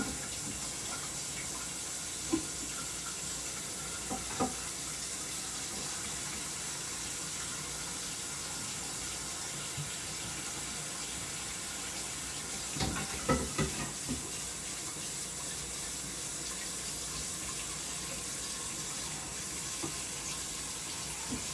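Water gushes steadily from a tap into a container, a constant broad hiss for the whole stretch with a few faint clinks and knocks, no voices.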